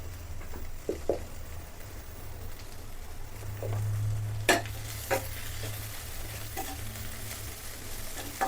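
Onions with salt and turmeric sauté in a pan for a soybean roast, a soft, steady sizzle broken by a few spoon scrapes and taps, up close and without talk.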